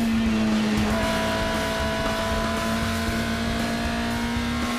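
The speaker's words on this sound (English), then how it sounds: "only knows one pedal position, full throttle" A race car at full throttle during the Nürburgring 24 hours race gives a steady, loud, droning engine roar with a sustained high whine that holds throughout and never lets up.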